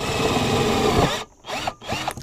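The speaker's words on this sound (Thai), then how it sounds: "อันนี้ลองขันนัดยึดหลังคากันบ้างนะครับ" A Bonya cordless drill drives a roof fastening screw, giving a steady loud motor whir for about a second and then a few shorter bursts as the screw seats.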